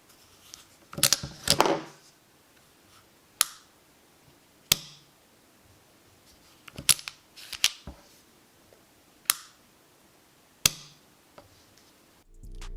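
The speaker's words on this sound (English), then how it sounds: "The trigger on this gun surprised me. It's crisp, clean, and just, well, hear it." Crisp, sharp trigger clicks from a Sig P365 pistol, close and isolated, arriving one at a time or in quick pairs, about nine in all with quiet gaps between them.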